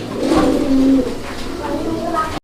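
Pigeons for sale at a market cooing close by, low throaty warbling calls rolling one after another, with a brief cut near the end.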